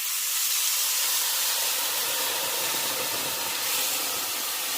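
Squeezed juice from four lemons hisses and sizzles steadily in a hot pan, a continuous close, bright frying hiss with no talking.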